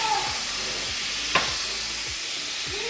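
Butter melts in a pan while being stirred for a salmon pasta, giving a soft, even sizzle with a few low scraping taps and one brief clink of a utensil.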